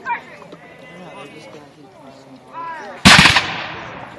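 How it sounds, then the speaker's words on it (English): Crowd chatter and distant voices, then a single sharp, loud blast from a two-pounder light artillery cannon that booms and trails off with a lingering rumble. "Discharge of light artillery."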